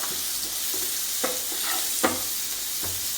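Chopped onion hits a pan of browning butter and garlic and fries with a constant broad sizzle, broken by a few soft stirring scrapes and clinks.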